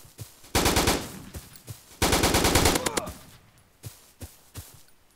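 Sniper rifle fire in a browser video game: two long, loud rapid bursts of clattering gunfire, followed by a few sharp isolated shots, all close and with no talking over them.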